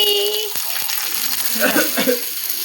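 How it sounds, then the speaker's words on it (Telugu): Fish frying in a pan gives a loud, steady sizzle close by, with stirring and a few faint voices in the background. "చేపల ఫ్రై అండి చేపల ఫ్రై"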